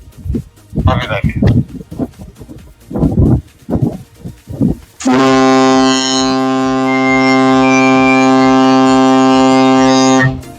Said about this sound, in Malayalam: Second officer, please blow the air horn.